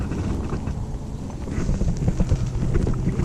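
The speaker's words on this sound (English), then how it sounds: "Wow, it's windy today." Gusty wind buffets the microphone in low rumbling bursts that swell and fade, growing stronger toward the end.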